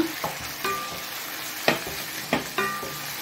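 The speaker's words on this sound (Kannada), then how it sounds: "ಇಲ್ಲಿ ಸ್ವಲ್ಪ ಟೊಮೆಟೊ ಹಾಕಿ ಸ್ವಲ್ಪ ಇದನ್ನು ಫ್ರೈ ಮಾಡುವಾಗ" Chopped tomatoes frying in a pan for a chana palak dish, sizzling steadily while a spatula knocks and scrapes against the pan in several sharp strokes.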